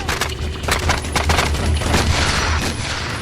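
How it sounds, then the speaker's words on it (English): Rapid gunfire from snipers in a shootout, a dense burst of overlapping cracking shots and booms, loud and close, with no pause and no voices. "Snipers 1 and 2 find themselves pinned down by the gunfire of snipers 3, 4, and 5."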